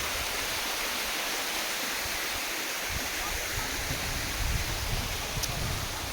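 Steady, full rush of falling water from a waterfall on a farm lot in Antipolo, heard up close and loud throughout, with no break.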